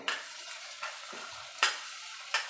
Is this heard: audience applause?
no